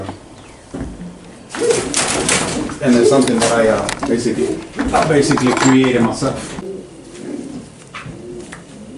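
Racing pigeons coo softly in a loft, low burbling calls under the close voice of someone talking, with a few knocks and shuffling sounds nearby.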